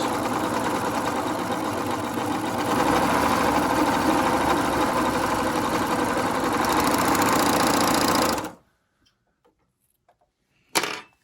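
A serger runs steadily and loudly, sewing fabric pieces for a DIY medical face mask, then stops abruptly, followed by near silence and a brief final burst of machine noise.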